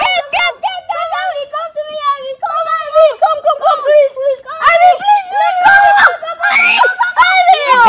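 A young child screams in high, shrill bursts, close and loud, with giggles and other children's voices mixed in.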